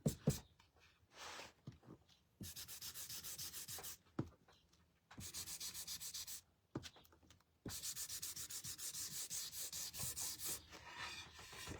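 A painted, stencilled wooden sign is hand-sanded in bursts of close, rhythmic scratchy rubbing strokes, some longer and steadier, separated by brief quiet pauses.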